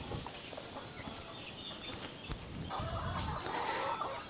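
Pet chickens on cool ground at a backyard pen, fed ripe melon as an afternoon snack, cluck and call softly at middle distance over a steady outdoor hiss, with scattered small scratching and pecking noises throughout.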